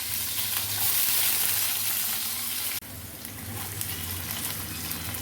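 Chopped onions with cumin and spices frying in hot oil, a loud, steady sizzling hiss that drops suddenly midway, then carries on slightly softer with a faint low hum underneath, no voices.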